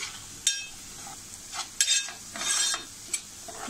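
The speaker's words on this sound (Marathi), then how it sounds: "थोडीशी हळद, हे मी थोडं परतून घेते. थोडं तेल सुटेपर्यंत परतूया." Turmeric and chopped yam frying in oil in a pan while being stirred, giving soft intermittent sizzles and scraping bursts at a moderate level with no talking.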